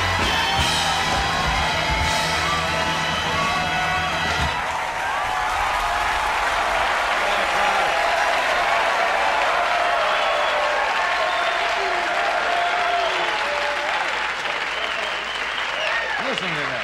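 A studio audience at the Johnny Carson Show applauds and cheers Rodney Dangerfield, dense loud clapping that holds for the full stretch, with speech briefly audible near the start.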